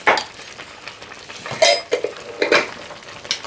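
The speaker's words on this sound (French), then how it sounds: "Tu mets ça et tu touilles." A utensil clinks and scrapes in a pan as garlic is stirred into sliced pork for a curry with green beans and mushrooms, in several loud, irregular bursts with no talking.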